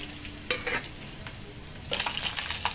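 Mustard seeds, garlic cloves, dried red chillies and curry leaves spluttering in hot oil for a tempering, with quiet crackles and a couple of sharp sizzling bursts up close.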